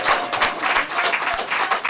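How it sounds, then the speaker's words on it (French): Wedding guests clapping for the bride at a reception, a short burst of close, uneven handclaps with distinct individual strikes. "Applaudissons pour la grande dame."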